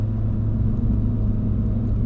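A Ford Fiesta ST X47R tuned to about 280 wheel horsepower drives along with a steady, close engine and road rumble that holds even throughout, with no talk over it.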